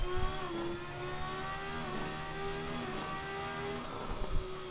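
Ferrari F300 Formula One engine on a racetrack in the Assetto Corsa racing game, a steady high-pitched engine note that holds and shifts pitch slightly, loud and continuous with no talk.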